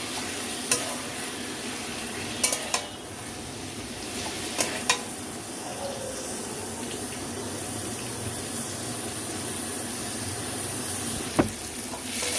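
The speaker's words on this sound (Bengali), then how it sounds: "টমেটোটা দেওয়ার পরে আরও 5-7 মিনিট আমি মশলাটাকে কষিয়ে নিয়েছি।" Chopped tomato and spices fry in a pan for a red chicken and potato curry, a steady close hiss of sizzling broken by a few sharp spoon clicks against the pan.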